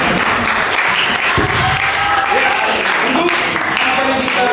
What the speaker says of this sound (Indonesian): Tepuk tangan untuk Chelsea.